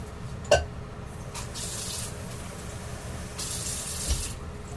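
Steady hot water running from a tap, a continuous hiss with a couple of brief knocks and clatters near the start and end.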